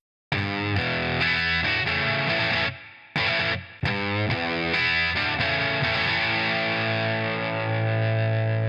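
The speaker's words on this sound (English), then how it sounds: "Relive the British invasion sound with the new stadium stack." Distorted electric guitar through a GarageBand stadium stack amp simulation, British invasion style, playing loud crunchy chords and riffs with brief gaps before ringing out in a sustained chord.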